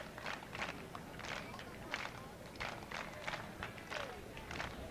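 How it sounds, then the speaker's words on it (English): Scattered claps from the Wareham Gatemen home crowd along the third base side at a summer collegiate playoff baseball game, coming in loose uneven bursts over steady ballpark murmur, fairly distant and moderate in level. "Claps coming in from the Gatemen faithful down the third base side"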